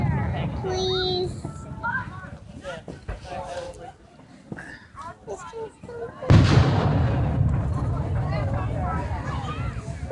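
Fireworks boom and crackle outdoors as people talk nearby, including a voice, and the blasts grow into a dense, louder rumble in the second half.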